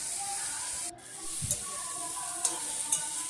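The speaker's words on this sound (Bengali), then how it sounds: "ভালো করে নাড়তে হবে ওকে পুঁইশাককে" Malabar spinach frying in a pan with turmeric, a steady close sizzle with a few light stirring scrapes and taps of the spoon.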